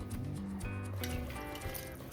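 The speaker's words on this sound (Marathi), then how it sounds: "इथं साधारण 1-2 ग्लास पाणी मी घातलं आहे" Water poured into a pot for pav bhaji, about one or two glasses, a steady continuous gurgling fill that stays close and loud throughout with no talk over it.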